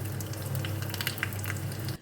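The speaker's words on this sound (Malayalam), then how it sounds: "നമുക്ക് ഈ കടുക് വറുത്ത് നന്നായിട്ടൊന്ന് ഇതിനെ ഇളക്കി" Mustard seeds frying in hot oil as a tempering for a Kerala butter beans coconut curry: a soft, continuous sizzle with scattered light pops and crackles over a low hum, fairly quiet and close.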